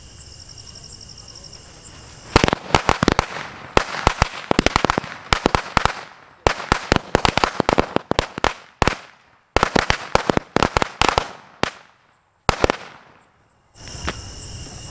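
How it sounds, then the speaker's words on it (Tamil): A 100-shot Sivakasi firecracker string bursts in rapid, irregular cracks and pops for about ten seconds, loud and close, with brief gaps between volleys. "இது வந்து பார்த்தீங்கன்னா 100 வாழா பட்டாசு."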